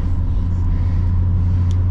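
A 1989 BMW 524td diesel with a low, soft engine hum, heard as a steady droning rumble from inside the car with no talk.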